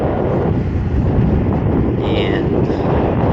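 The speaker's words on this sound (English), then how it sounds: "Except that it's windy and cold." Wind blows steadily on a cold day during a solo bike tour in Japan, a loud broadband rush that buffets the microphone throughout, with no clear talk over it.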